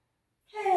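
A deep breath drawn during a guided yoga session, starting after a silent stretch and building steadily in volume as a close, airy inhalation that runs to the end.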